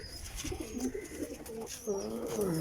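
Timing pigeons coo in repeated low, rolling phrases, close and steady over a constant background hiss, with several birds overlapping.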